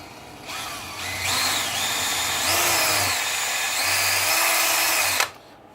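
A power drill bores into a small lathe reversing-switch tab clamped in a vise, a steady close whine that holds for about four seconds with slight pitch dips under load, then stops abruptly.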